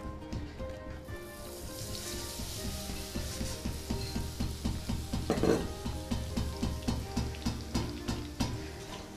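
Boondi batter, dropped a ladle at a time into hot ghee for motichoor ladoo, sizzles steadily while a spoon stirs and scrapes in a quick, even rhythm, close and moderately loud.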